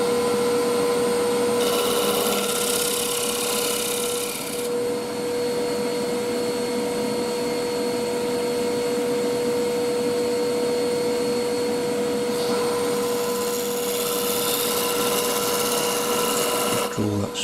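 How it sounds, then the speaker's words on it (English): A round nose scraper making finishing cuts on the inside of a wooden ring on a lathe: a steady, loud whirring drone runs throughout, with a brighter scraping hiss that rises during two stretches and then fades. "Gone onto a round nose scraper there, just to do some finishing cuts on the inside."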